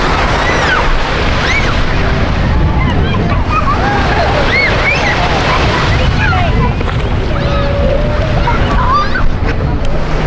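Steady roar of waves breaking on a warm sandy beach, continuous and fairly loud, with scattered bird calls and distant voices mixed into the wash.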